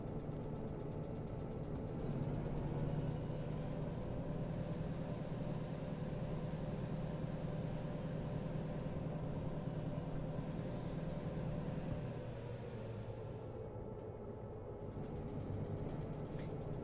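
Faintly, a heavy freight train in Derail Valley slows down with a steady low rumble and hiss of engine and wagons, easing off slightly toward the end with no one speaking.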